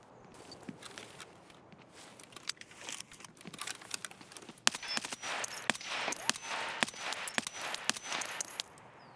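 Rapid gunshots and sharp impacts on body armor in the shooter game Escape from Tarkov, a dense patter of cracks and clinks building in intensity, with a loud hit midway, mid-distance and steady.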